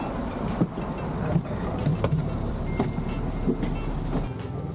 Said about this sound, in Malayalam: നമ്മുടെ ബസ് സ്റ്റാർട്ട് ചെയ്ത് നമ്മൾ ബസ്സിലോട്ട് കയറുകയാണ് തിരിച്ച്